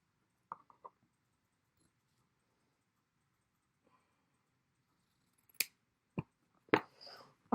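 Scissors cut through T-shirt fabric to make a mask, heard as a few faint, scattered snips and crisp shears near the end against a mostly quiet background.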